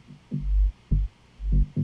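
A minimal house bass line programmed in Ableton, with deep sub bass swelling under a punchier mid bass: four rounded, throbbing notes in a loose, syncopated rhythm, loud and alone.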